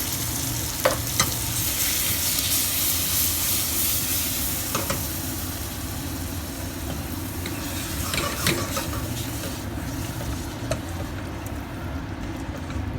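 Chopped tomatoes go into a hot pan of cooked bacon and onions for pasta amatriciana, and a steady sizzling fry carries on throughout. A few light stirring scrapes and clinks come through close by.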